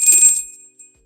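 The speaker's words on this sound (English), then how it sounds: "If you wonder why I ring the bell, by the way, it's to cleanse the energy." A small hand bell rung once during a tarot reading, a bright ringing tone that fades out over about half a second, heard close and alone.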